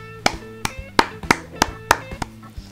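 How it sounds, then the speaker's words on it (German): Hand clapping during a Bedwars game, about eight sharp, evenly spaced claps close to the microphone over a steady tonal game-music background. "da kann man nicht klatschen, aber ich habe es jetzt trotzdem getan"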